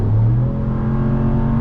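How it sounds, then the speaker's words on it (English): Naturally aspirated HEMI V8 in a 2026 Ram 1500 Laramie pickup revving hard, a loud deep roar that swells early then settles into a steady, droning pull. "It's so great to be in a naturally aspirated engine again."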